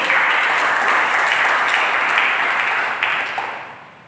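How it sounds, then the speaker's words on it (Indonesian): Applause from a church congregation during a sermon, a dense steady wash of clapping that holds loud for about three seconds, then thins and fades out. "Berikan tepuk tangan bagi kita"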